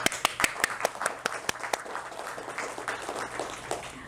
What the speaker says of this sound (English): I'll tell you why we are clapping.